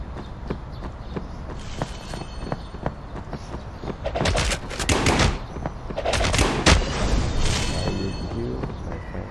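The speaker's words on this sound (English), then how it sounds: "If you have a legendary shotgun, you can stun with one shot." Legendary shotgun blasts in the Ice Scream horror brawl game, several loud sharp bangs with booming low tails cutting through a busy game mix of footsteps and effects.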